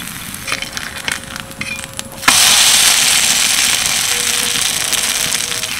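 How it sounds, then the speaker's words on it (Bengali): Food frying in a hot pan over a strong flame, with a steady, loud hiss that jumps up abruptly partway through and stays even, preceded by quieter crackles and clinks, no talk. "পরেরটাও দেখো বেশ ভালো করে ভেজে নিয়েছি"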